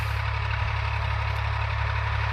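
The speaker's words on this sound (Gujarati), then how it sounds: "અત્યારે છે ને ટ્રેક્ટર આ બાજુ હેલું આવે છે" A tractor engine runs at a steady idle-like drone in a field during wheat sowing, close and continuous with a deep low rumble, no voices.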